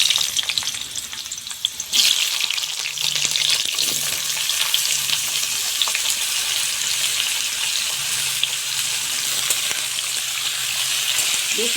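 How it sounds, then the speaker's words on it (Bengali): Cut ridge gourd and potato drop into hot mustard oil in a kadai over a wood fire, setting off a loud, steady, close-up sizzle that carries on without a break. "সবজি কাটা একটু ভেজে নিব বেশি"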